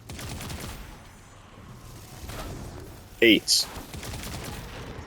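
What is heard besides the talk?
sniper gunfire in a video game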